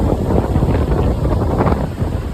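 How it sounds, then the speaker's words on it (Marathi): Fast, swollen river water surges during heavy rain, a dense continuous roar heavily buffeted by wind noise on the microphone, close and loud throughout. "ही आहे कारंज्याची नदी. बघा पाणी कसं उसळा लागलं."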